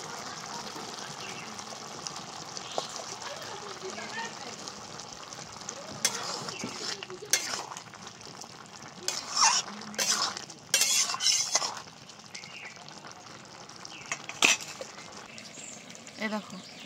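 A spoon stirs fried prawns into soft, well-boiled bottle gourd in a pan for a Bengali lau chingri dish, giving scattered clinks and scraping bursts over a low background, with a voice talking at times.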